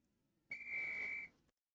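A single steady whistle blast starts a Quidditch-style flying lesson in the Harry Potter PS1 video game. It is a clear, pure, high tone that lasts under a second and stops sharply, with no other sound around it.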